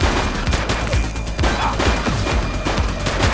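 Rapid bursts of gunfire from the police video game The Precinct crackle in a dense, continuous volley, loud and close, with repeated sharp reports stacking over one another.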